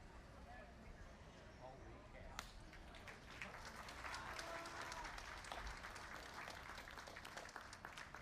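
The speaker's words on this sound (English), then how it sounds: "please meet this with a round of applause" An audience at a youth dairy cattle show breaks into applause after a quiet, murmuring start, the clapping swelling into a sustained crackle that carries to the end.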